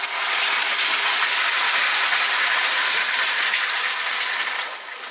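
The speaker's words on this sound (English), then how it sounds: "we add the tomato passata" Tomato passata pours steadily into a hot pan with onions, giving a continuous, fairly loud sizzling hiss that fades slightly at the very end.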